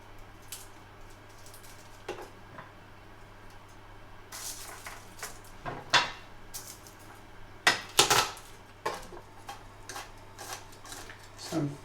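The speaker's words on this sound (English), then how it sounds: "chopping these garlic to go in the garlic bread" Garlic cloves being finely chopped for garlic bread with a knife on a board, giving scattered light taps and clicks, some louder in bursts, over a low steady hum in a kitchen.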